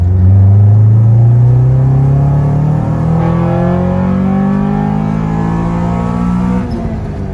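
Honda Civic with a B20 VTEC engine revving loud and close, pitch climbing steadily over several seconds before dropping off sharply as the throttle closes.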